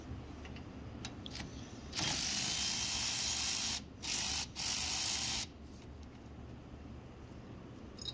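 A wrench works loose the parking brake cable bolt on a 2021 Toyota Tacoma during a lift kit install, giving a steady close mechanical ratcheting that runs for a few seconds with two short breaks.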